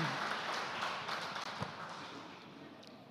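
Audience applause for a speaker called to the stage at a talk event, a continuous mass of clapping that is heavy at first and slowly fades toward the end.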